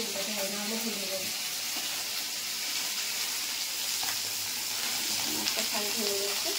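Soft, delicate fish shallow-frying in a pan, a dense continuous sizzle held close and fairly even throughout, with faint clinks of turning.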